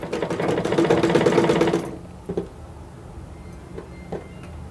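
A sewing machine stitching a blouse runs in a fast, steady close-up whir for about two seconds, then stops, leaving only a few faint clicks and handling sounds.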